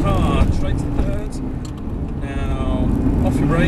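A Ferrari 360 Spider's engine drones steadily at speed on a track as it slows under engine braking, with a voice talking over the continuous mechanical hum.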